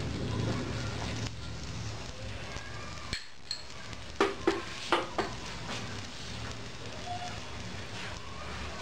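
Egg parotta frying in oil on a hot pan, a steady soft sizzle with a few sharp spatters and pops in the middle, while someone speaks quietly.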